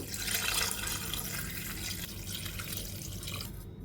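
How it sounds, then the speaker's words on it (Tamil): Water poured into a cooking pot holding lentils and sautéed onions while making a greens curry, a steady splashing, gurgling pour heard close up for a few seconds, ending abruptly. "இப்போ தண்ணி ஊற்றிக்கலாங்க"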